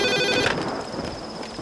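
A telephone rings with a bright, sustained electronic trill, loud and close, alone without any talk.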